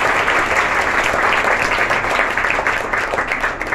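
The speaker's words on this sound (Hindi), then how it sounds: "बच्चे एक बार ताली बजाएं अपने पूरे स्टाफ के लिए" School children applauding their staff at a Basant Panchami school function, a steady crowd of many hands clapping close and loud, slightly tapering toward the end.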